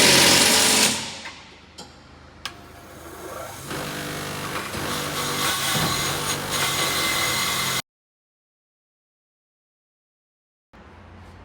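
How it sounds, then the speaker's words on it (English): A car body panel on a Nissan 200SX being sanded at a garage, a continuous close scraping and rubbing that builds steadily for several seconds, then cuts to silence before a brief return at the end. "Boris has given me some tasks to do that I can achieve, which is sanding."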